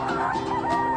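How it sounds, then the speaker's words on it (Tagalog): A single brief, close, honk-like fowl call about a second long at a game fowl farm in Angat, Bulacan, heard alone without talk. "Ang ganda ng manukan na puntahan namin ngayon."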